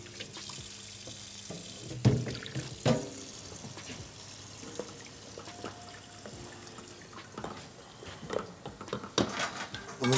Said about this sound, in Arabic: نكب شوية مي